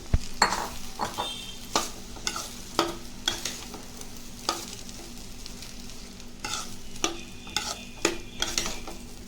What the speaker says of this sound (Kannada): ಇದು ರೈಸ್ನ ಇದರಲ್ಲಿ ಮಿಕ್ಸ್ ಮಾಡಿಕೊಂಡು ಚೆನ್ನಾಗಿ ಕಲಿಸ್ಕೊಳ್ಳಿ